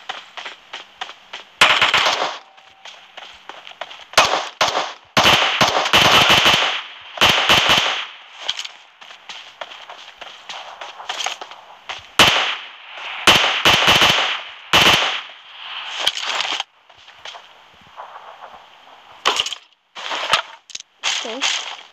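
Gunfire in the battle royale game PUBG: bursts of sharp rapid shots and single cracks come in clusters, loud and close, with short silent gaps between the volleys.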